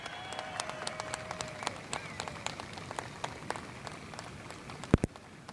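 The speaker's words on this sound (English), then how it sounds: "Let's give them a round of applause." Scattered, sparse clapping from an audience at a high school graduation ceremony in Plattsburgh, individual claps spread unevenly over a quiet hall with a faint steady tone beneath and one sharper clap near the end.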